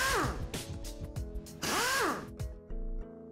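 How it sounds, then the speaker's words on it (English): Power tool loosening the head bolts on a high pressure piston pump, short whirring bursts that rise and fall in pitch, separated by brief pauses, close up. "Remove the head bolts."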